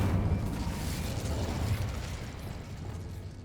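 Incendio fire spell cast in the video game Hogwarts Legacy, a dense rushing fiery whoosh with a low rumbling burst that fades over a few seconds, no voices.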